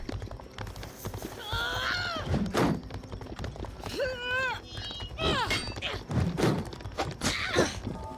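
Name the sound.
horse hooves galloping, from a video game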